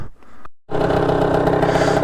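A motorcycle engine, warmed up to temperature, roars steadily and loudly up close after a brief dropout as the rider pulls away.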